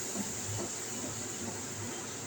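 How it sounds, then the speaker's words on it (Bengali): Tomato paste frying with spices in a pan for a chana dal, bottle gourd and egg dish, a steady close sizzling hiss that runs evenly throughout with no talking. "টমেটো পেস্টটা ভালো করে কষিয়ে নেবো।"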